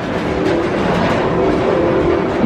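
Park train at Busch Gardens rolling along its rails, a loud, close, continuous rumble with rhythmic wheel clatter and no voices.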